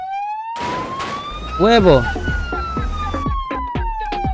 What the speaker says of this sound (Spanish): llegó la patrulla